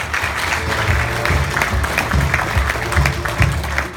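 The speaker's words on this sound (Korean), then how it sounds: "우리 이 자리를 빌어서 고생하신 우리 선배님들한테 큰 박수 한번 보내주시는 게 어떻겠습니까?" Sustained applause from a hall full of alumni honouring senior graduates at a school alumni evening, steady clapping with a low droning background beneath it.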